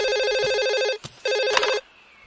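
Electronic telephone ringtone in a cartoon, loud repeated warbling rings in two bursts with a short gap, alone without talk.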